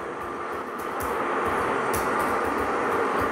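Rapid train No. 47 bound for Izumi-Chuo pulling into platform 2, a broad steady rumble of wheels and cars with faint rhythmic clicks, swelling slightly as it nears.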